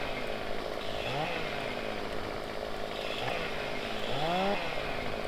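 A chainsaw cuts a tree into smaller pieces in the video game Farming Simulator 15, a steady buzzing engine drone with a few rising revs as the blade bites, under a constant background hum.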